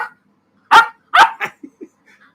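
Dogs on a farm barking in a short burst of several sharp, loud barks close by, followed by a couple of softer yips and faint whimpers.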